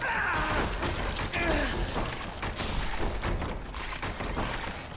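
A mimic chest in Dark Souls 3 springs to life and attacks as it is opened: continuous loud mechanical grinding, ratcheting clatter and heavy thuds, dense and close throughout.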